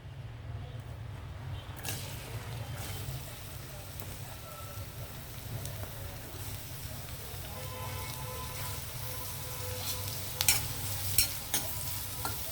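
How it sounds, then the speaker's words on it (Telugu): Onions fry in hot oil in a pan, producing a continuous soft sizzle with occasional scraping stirs and a few louder clinks near the end. "ఆయిల్ హీట్ అయిన తర్వాత మనం ముందుగా ఆనియన్ వేసి ఫ్రై చేద్దామండి."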